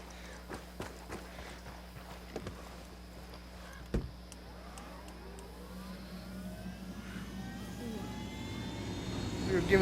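Helicopter in the Ghost Recon Wildlands video game, a low steady rotor drone under scattered footstep-like clicks that swells and grows louder toward the end.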